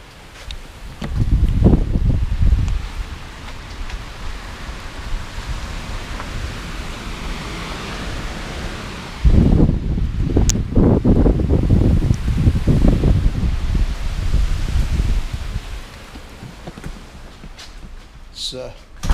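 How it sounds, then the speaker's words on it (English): Strong wind roars and buffets the microphone in bursts, with rustling and a voice speaking through part of it. "the wind is blowing like crazy"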